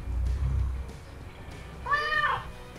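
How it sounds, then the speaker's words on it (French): A single short cat meow played through an Alexa smart speaker, faint against room noise, arriving after a quiet stretch near the end. "Voici un son de chat."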